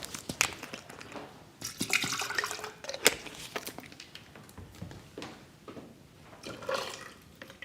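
Water running from a tap, splashing in short bursts, with clinks of a pot or utensils nearby while cooking pasta Bolognese with a Thermocook Pro M 3.0, close and moderately loud.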